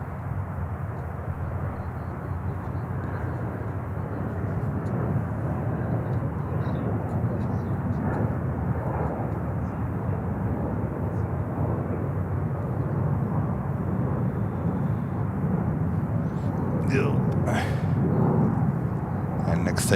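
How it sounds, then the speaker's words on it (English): An airliner taking off from runway 31 center at Charlotte airport, a steady broad engine roar holding throughout at moderate distance, with faint radio chatter now and then. "Back-to-back takeoffs at the moment on 31 center"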